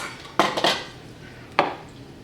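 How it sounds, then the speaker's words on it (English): A utensil mixes cupcake batter of melted chocolate, sugar and Baileys in a bowl, striking the side in two short, bright clinks close up, separated by quieter stirring. "And give that a mix."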